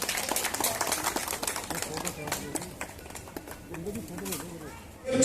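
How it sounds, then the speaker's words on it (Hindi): Applause greets Sanjay, chairman of the Delhi Safai Karmachari Commission, at a public gathering: a steady crowd clapping throughout, mixed with voices over a sound system and swelling louder near the end. "जोरदार तालियों स्वागत"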